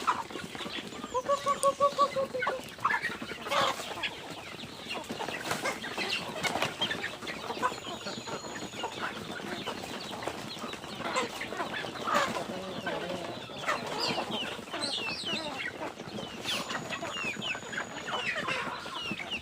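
Chickens cluck and a rooster calls intermittently amid a steady outdoor farmyard bustle, with occasional wing flutters.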